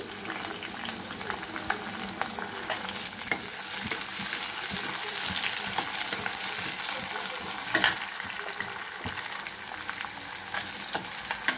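Green chili, ginger and onions fry in a pan with a continuous crackling sizzle and bubbling oil, broken by occasional stirring scrapes and clinks.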